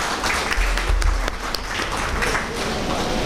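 Loud applause from a ceremony audience as an honoree receives a title at an astrology researchers' association anniversary event, a dense clatter of many hands with low rumbles and murmured voices underneath.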